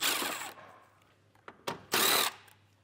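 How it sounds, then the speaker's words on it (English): A cordless drill with a T25 Torx bit backs screws out of the wheel-well fascia of a 2023 Audi Q5. It makes a few short, sharp whirring bursts close by: a longer one first, then quick stutters and a final firm spin. "We'll use a T25 Torx bit to get those removed."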